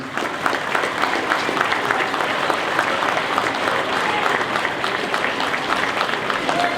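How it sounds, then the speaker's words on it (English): A crowd at a football club presentation night applauds steadily for several seconds, a dense even patter of many hands clapping at a moderate distance. "Please give everyone a great round of applause, please."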